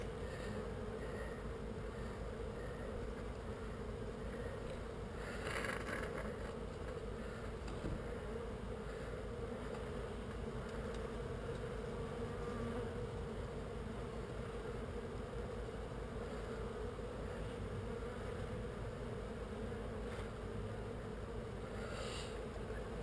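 Bees buzz steadily inside a tile roof during a bee removal job, a dense, continuous insect drone that holds at an even level throughout with no talking.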